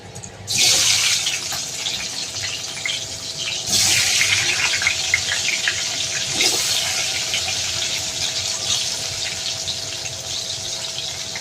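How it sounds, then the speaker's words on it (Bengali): Potato pieces go into hot oil already holding a paste of cumin, Kashmiri chilli and garam masala, giving a loud, steady sizzling hiss that surges at each new addition and carries on unbroken. "এবার আমি আলুগুলোকে এই তেলের মধ্যে ছেড়ে দেবো"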